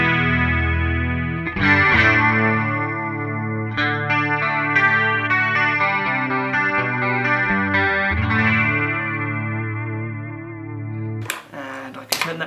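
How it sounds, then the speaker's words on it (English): An electric guitar runs through a chorus effect on a Line 6 Helix, its sustained, shimmering chords ringing clearly and alone for about eleven seconds before a short noisy burst at the end. "Chorus."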